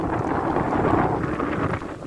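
Strong wind by the sea roaring and buffeting the microphone in a steady, dense rush of noise, with no voices.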